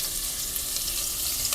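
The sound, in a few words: onion sizzling in oil for macaroni soup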